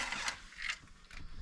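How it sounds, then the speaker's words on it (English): A screwdriver is picked up and handled while work is under way on a motorhome roof fan upgrade, giving a few short metallic clicks and ratcheting rattles close by with no talk. "Just checking I've got the right size screwdriver."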